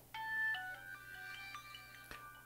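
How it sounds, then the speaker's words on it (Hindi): A student's phone rings during an online class, a steady electronic ringtone melody of repeating tones that plays on alone over a faint background hum. "फोन आ रहा है स्टूडेंट का"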